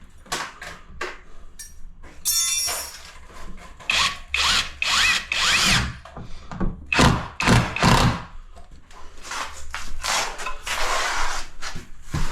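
A power screwdriver drives a screw into timber during a vanity installation, with repeated close whirring bursts, wood thumps and rubbing between runs.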